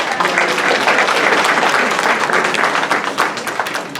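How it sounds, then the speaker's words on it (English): Audience applause at a police chief's listening session in Dallas, loud, steady and continuous clapping from a sizeable crowd that fills the whole stretch without pause. "can we give him a round of applause?"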